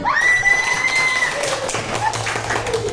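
Children in a classroom clap and cheer together in a lively burst of applause, with shouts and voices mixed into the noise; one high, sustained squeal stands out early on.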